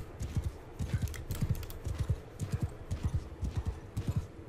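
Horse hooves clip-clopping across rough terrain in the video game Mount and Blade II: Bannerlord, a brisk, steady rhythm of close, repeated hoof strikes with no voices.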